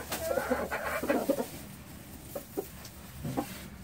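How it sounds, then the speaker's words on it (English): A game fowl show hen clucks in short, soft bursts, a few quick clucks followed by scattered single ones, fairly close with no talking. "Now I'm going to show you my show hen for this year."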